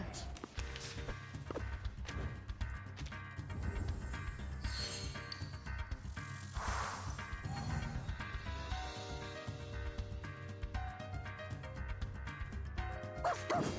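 A puppy barking in a video game, with short yips and barks scattered through dense game sounds and music and a person talking over them.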